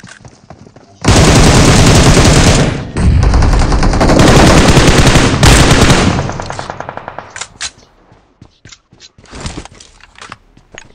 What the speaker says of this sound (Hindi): मैं आगे से मशीन गन चलाया ना